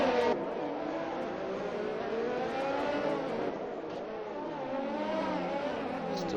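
Racing cars sweep through the Monaco tunnel one after another in a sim race, engines loud and close with rising and falling revs, a continuous roar of several cars passing.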